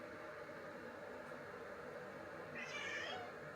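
A house cat meows once near the end, a short clear call rising over a quiet indoor hum that otherwise fills the space, with no speech.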